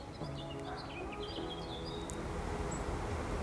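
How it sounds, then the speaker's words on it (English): Faint birds sing with a few scattered chirps and tweets over a soft, constant background hiss. "you can hear the birds singing"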